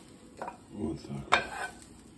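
Dishes set down with a few light clinks of crockery over cooked liver with onions, close but fairly quiet, with a sharper clatter near the end and faint room noise underneath.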